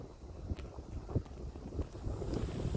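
Cold wind buffeting the microphone on a hilltop, faint low gusts rumbling in uneven puffs with no talk.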